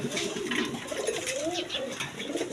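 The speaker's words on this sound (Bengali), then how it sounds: "এখানে এক পেয়ার ফ্যান্ডাল কবুতর আছে" A pair of fantail pigeons, a male and a female, coo softly and repeatedly against a steady wash of background noise, close by.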